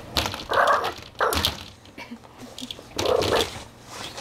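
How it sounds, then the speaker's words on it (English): A chihuahua barks close by in several sharp bursts of yips and barks with short whimpering gaps between them, during an encounter with a tegu lizard. "Who's a tough dog, Molly?"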